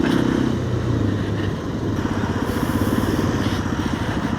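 A Hero XPulse 210 motorcycle rides at night on a potholed road, its engine a steady close throbbing hum with a pulsing low rhythm, loud and continuous throughout.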